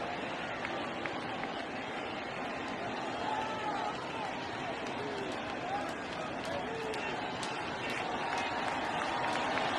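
Crowd noise fills a baseball stadium during a 2019 World Series game between the Astros and Nationals, a steady roar of cheering and murmur that holds loud and continuous throughout.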